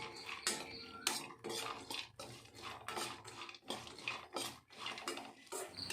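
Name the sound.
raisins frying in ghee, stirred in pan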